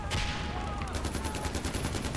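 Gunfire in the Far Cry 4 game rings out in a rapid burst of repeated shots, then settles into a pulsing stream of fainter reports at a moderate distance.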